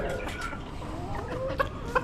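A Silkie rooster, a crested, fluffy black-skinned breed, clucks at an Amish animal auction, with a few short clucks and calls ringing out against a busy background of other poultry.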